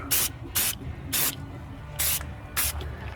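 Five short bursts of aerosol spray paint hitting an upturned Craftsman mower deck, each lasting about a quarter second with brief pauses between, close and fairly loud with no talking.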